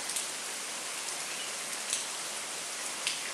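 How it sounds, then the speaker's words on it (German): Steady, even rain falls on Ko Kut island, Thailand, as a dense hiss of drops with a few brief, slightly louder splashes and no voices. "Regen."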